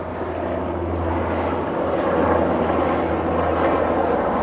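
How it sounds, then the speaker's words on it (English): A red and blue ambulance helicopter drones overhead in a continuous, fairly loud low rumble that holds steady throughout. "That is the ambulance helicopter"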